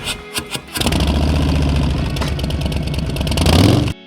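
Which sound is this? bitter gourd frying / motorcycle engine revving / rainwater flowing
motorcycle engine revving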